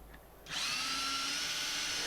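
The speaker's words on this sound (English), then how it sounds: "used a drill press with the depth set to cut larger holes" A drill press starts up after a quiet moment and bores holes in wood, running steadily at high speed, a loud whining bore that holds without pause.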